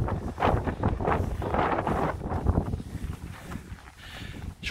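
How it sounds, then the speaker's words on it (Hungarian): Strong gusts of coastal wind at Kalvehageneset, Homborsund, roar and buffet the microphone, surging and easing in loud waves with no one speaking. "fúj a szél elég erősen"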